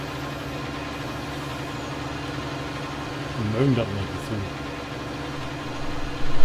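A tractor pulling a heavy load uphill somewhere in Thuringia drones with a steady, low engine rumble throughout, while a person talks over it.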